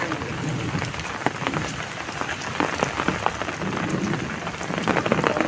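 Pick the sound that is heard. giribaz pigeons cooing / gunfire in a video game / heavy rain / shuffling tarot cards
heavy rain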